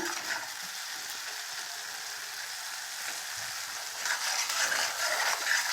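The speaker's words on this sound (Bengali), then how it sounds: "ভালো করে মশলাটা কষিয়ে নিতে হবে" Spiced masala of red chili powder, turmeric and green chilies fries in a pan for a Bengali rohu fish curry, a steady broad sizzle that swells louder in the final seconds, with no talk.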